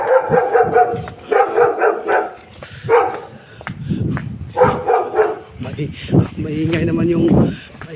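A dog barks loudly and close in repeated bursts, with yips and whimpers mixed in, while a person talks over it during rain.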